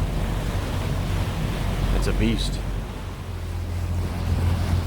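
Atlantic Ocean waves at the entrance to Charleston Harbor wash in a continuous, fairly loud roar, mixed with wind buffeting the microphone and a brief spoken remark.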